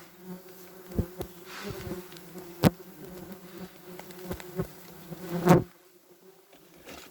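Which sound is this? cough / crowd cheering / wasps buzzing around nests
wasps buzzing around nests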